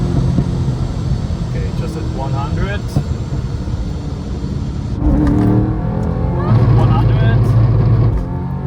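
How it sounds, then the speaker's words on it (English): A 750 hp supercharged BMW E90 M3 pulls hard on the autobahn, its loud engine roar and wind noise steady throughout and swelling in the second half, with people talking over it. "This car is incredibly sounding."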